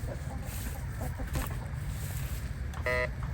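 Backyard chickens clucking softly in a steady, low murmur, with one brief louder call near the end; no voices.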